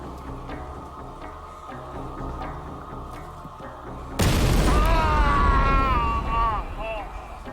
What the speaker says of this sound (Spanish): La explosión lo hirió de gravedad y le arrancó los dedos.